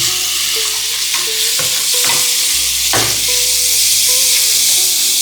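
Chopped tomatoes hit a hot tempering of oil and red chili, sizzling loudly and steadily while a spoon stirs and scrapes through them in the pan, with no voices.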